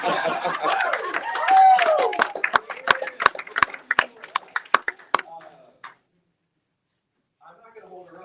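A small political meeting audience of a county GOP group bursts into brief cheering and laughter, then scattered claps taper off into silence, with a faint voice returning at the end.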